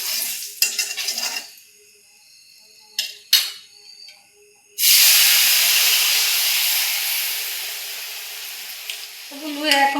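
Salt, turmeric, chili powder and cumin hit a hot pan for a Bengali potato curry, giving a sudden loud sizzle that slowly fades, after a few clinks of utensils and before more clatter at the end.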